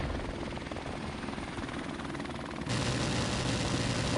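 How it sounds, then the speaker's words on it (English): Helicopters in Call of Duty: Modern Warfare Remastered thrum with a steady, close rotor beat that grows noticeably louder partway through. "Not helpful when they just have like back-to-back helicopters being called in"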